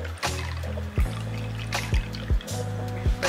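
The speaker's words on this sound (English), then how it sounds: "Red wine pour." Red wine pouring from a bottle into a glass at home in a kitchen, a close, steady gurgling trickle broken by several short glugs as the flow stops and restarts.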